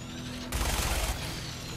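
A sudden loud burst of rapid gunfire in Fallout 4's Nuka-World on PS5 erupts for about half a second, then gives way to steady electronic background noise, like a game's shooting effects.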